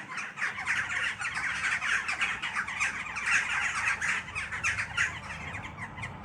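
Birds squawking at night, a flock giving dense, continuous harsh calls at steady loudness with faint traffic rumble beneath and no talk.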